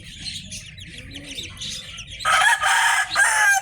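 Roosters and hens cluck and call softly at a game farm before an imported gamefowl rooster lets out a loud, close crow partway through, its strained call breaking briefly and then resuming, with light bird chatter beneath.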